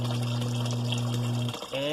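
A dishwasher's drain pump pushes water into a 5-gallon bucket, making a steady, close, humming pump tone over gushing water that briefly dips and changes pitch near the end.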